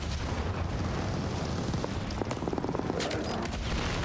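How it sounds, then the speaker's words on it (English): A tank firing in the Call of Duty: Vanguard campaign, set in a dense, loud battlefield roar with heavy booms and rapid crackling gunfire near the end, and no voices. "Oh, that's a tank."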